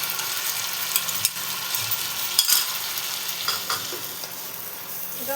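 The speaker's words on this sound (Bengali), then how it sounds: "এটা একটু ভালো মতো ভেজে নেব, যাতে কাঁচা গন্ধটা দূর হয়ে যায়" Tomato paste fries with prawn masala in a pan for chingri bhuna while a spoon stirs it, producing a continuous close sizzle broken by scraping clicks of the stirring, with no voices.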